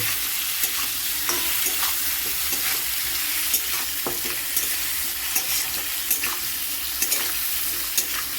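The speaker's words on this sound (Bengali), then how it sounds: "এবার এটাকে খুব ভালো করে আমি আমের সাথেই মাখিয়ে নেব।" Raw green mango pieces being mixed by hand with turmeric powder, giving a steady, close, soft scraping and stirring sound with small clicks, no talking.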